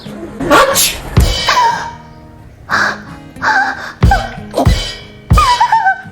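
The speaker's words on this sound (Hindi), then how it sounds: "सॉरी, छींक आ गई।" A loud sneeze amid a sequence of sharp vocal bursts, close and abrupt, with voiced sounds between the bursts.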